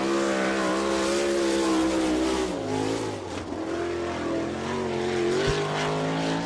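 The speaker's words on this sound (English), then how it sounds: "Jared Hall underway right now in car number 51 from Sykeston, Missouri, the Guy Webb Eagle chassis" Sprint race car number 51 with a Guy Webb Eagle chassis laps the Attica, Ohio track, its engine a loud, steady high-pitched roar whose pitch rises and dips through the corners, with no talk.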